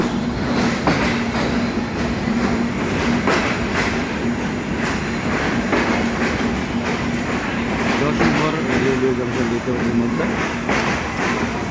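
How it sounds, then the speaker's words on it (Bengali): Passenger train at Jessore railway station in Bangladesh, arriving from Khulna: a loud, continuous rolling rumble with rhythmic wheel clatter throughout, and a voice faintly underneath. "যশোর রেলওয়ে স্টেশনে থামল সকাল সাতটা তিরিশ মিনিটে খুলনা থেকে এই ট্রেনটি ছেড়ে এসে"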